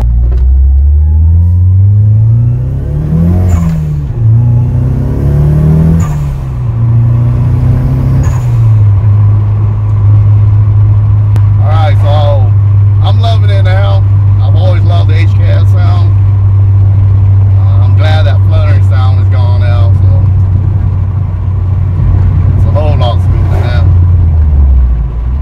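An HKS SSQV blow-off valve on a turbocharged car venting at around 7 to 8 psi of boost, heard as sharp hissing whooshes over a steady engine drone, with a voice talking at times.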